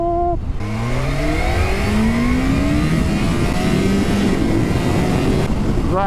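A 2022 Kawasaki H2 SX motorcycle accelerates hard in first gear, its engine note climbing in a loud continuous rising whine with a brief shift near the start, close and dominant with no talking.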